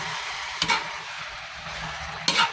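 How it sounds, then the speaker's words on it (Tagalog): Coconut milk (gata) with tinapa smoked fish simmers at a rolling boil in a pot, with a steady bubbling hiss and two sharp spoon stirs against the side. "Guys, tingnan na natin kung kulo na yung gata."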